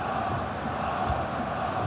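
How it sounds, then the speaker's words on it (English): Steady stadium crowd roar from the FIFA 18 video game, a continuous dense wash of massed voices holding at an even level throughout, with no distinct chants or peaks standing out. "The crowd want him to shoot."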